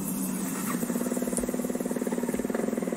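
A motorcycle engine in the horror game The Shadow Over Route 80 catches and settles into a steady, rapid idle pulse with a high squealing whine over it, fairly close and loud with no talking.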